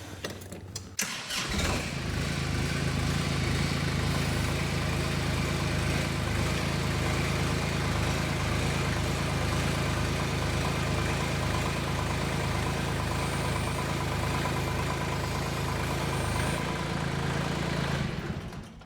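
A tractor engine starts and then runs at a steady loud idle for a long stretch while lifting rear ballast, a constant close rumble that drops away at the end.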